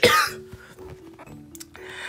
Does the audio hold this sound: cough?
yes